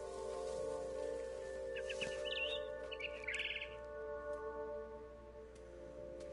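A bird in the video game What Remains of Edith Finch gives a few quick high chirps over a steady low ambient hum, faint and brief in the middle of the stretch.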